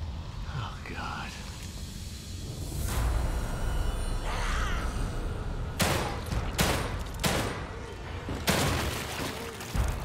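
Shots from The Evil Within 2 ring out in a few sharp, loud bursts over a low, rumbling game backdrop, with faint whispery sounds between them.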